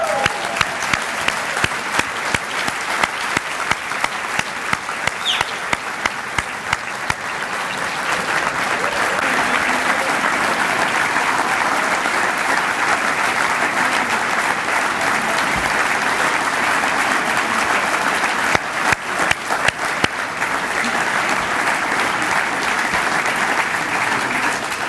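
Audience at a school president's dinner breaks into sustained applause, loud and steady, with some scattered sharper claps near the start and a brief cheer toward the end.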